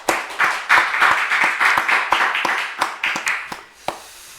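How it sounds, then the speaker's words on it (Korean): A church congregation applauds together after a closing prayer, a steady wash of many hands clapping close by for several seconds before thinning out into a few scattered final claps. "하나님께 영광의 박수 올려드리겠습니다."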